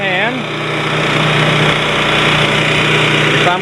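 A gasoline generator engine is cranked and catches, giving a loud, close, rapid mechanical chugging that runs steadily for a few seconds after a brief starter whir at the start.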